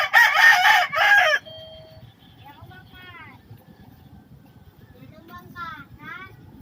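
A native chicken rooster crows loudly and close at first, followed by fainter, more distant crows from other birds.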